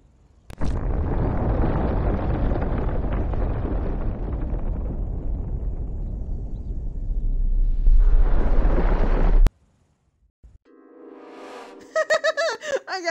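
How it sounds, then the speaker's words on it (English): A nuke explosion in the video game Destroy All Humans!, a loud sustained roar and rumble that swells and cuts off abruptly, followed by silence and then brief game tones. "That was a nuke explosion."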